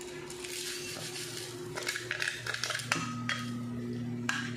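A spoon stirring sugar into homemade iced coffee, clinking and scraping against the glass in a quick irregular run of light taps over a low steady hum.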